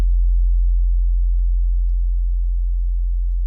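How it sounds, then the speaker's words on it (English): A steady, deep synthesized sub-bass tone hums continuously, loud and unchanging, with a faint low rumble and no other sounds. "it's just a sub that I've built"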